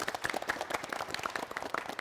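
A small audience at a school quiz show claps for the team "Intelligent" from School 62, a brief, fairly quiet patter of scattered hand claps that holds steady for two seconds with no voices over it.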